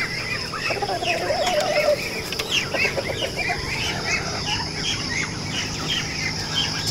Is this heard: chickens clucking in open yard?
yes